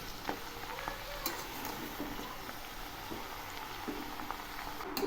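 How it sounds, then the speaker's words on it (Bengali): Quiet scraping and stirring in a full karahi of taki fish with bottle gourd and garlic greens over a soft sizzle, with scattered light clinks of a utensil against metal. "আবার একটু নেড়ে দিচ্ছি।"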